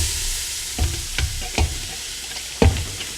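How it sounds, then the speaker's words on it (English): Vegetables dropped into a dark roux in a gumbo pot on a stove top, a loud steady sizzle broken by several thumps and scrapes of stirring, with one stronger knock near the end and no talk. "So what we're going to go ahead and do is put our vegetables in there."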